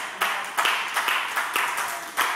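Church congregation clapping together in a steady rhythmic beat, roughly two claps per second, loud and close, sharp repeated hand strikes with no voices over them.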